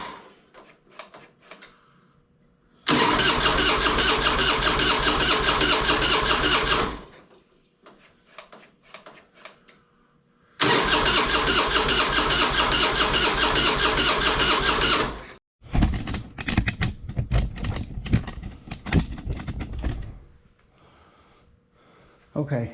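A 2001 Harley Springer motorcycle engine, given a carburetor cleaner in its fuel, cranks over twice in long loud bursts, then catches and runs rough and uneven, with people talking in the gaps.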